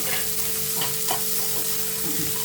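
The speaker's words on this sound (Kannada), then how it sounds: "ಒಂದು ದಪ್ಪದು ಆನಿಯನ್ನು ಕಟ್ ಮಾಡಿ ಇಟ್ಕೊಂಡಿದ್ದೆ ಹಾಕೋಣ ಇದನ್ನೊಂದು ಸ್ವಲ್ಪ ಚೆನ್ನಾಗಿ ಫ್ರೈ ಮಾಡ್ಕೊಳ್ಳೋಣ" Thick-cut onion sizzles loudly in hot oil in a pan, a dense continuous frying hiss with faint stirring scrapes, close up and without speech.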